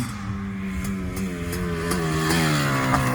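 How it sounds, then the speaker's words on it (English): Stock Suzuki LT500R Quadzilla ATV two-stroke engine with an FMF pipe, revving loud and close with a steady rising drone that climbs slightly in pitch, slightly rough and sputtery at the top. "You can hear it kind of giving that sputter up top."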